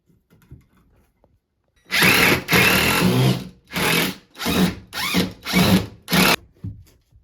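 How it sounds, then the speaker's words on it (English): A power drill drives screws into pocket holes while garage or basement shelving is assembled, with about six loud, close whirring bursts separated by brief pauses after a quiet start. "Just screw these on place, so just like this."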